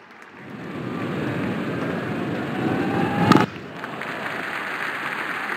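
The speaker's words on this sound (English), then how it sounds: "Crowd going mad here." Cricket crowd in the video game Real Cricket 20 roars steadily throughout, a dense sustained cheer that swells briefly with a sharp burst before settling back to a constant wash of noise.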